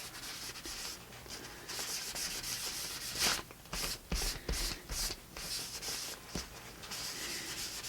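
Paint being rubbed by hand into a textured mixed media surface whose lines were scraped in with a credit card; a steady, close, dry scrubbing rasp runs throughout, with a few louder strokes near the middle and no talking.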